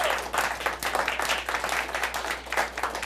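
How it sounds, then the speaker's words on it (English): Studio audience clapping at the premiere episode of a live comedy talk show, a dense steady wash of many hands for about three seconds with no pauses, loud and close. "Please clap"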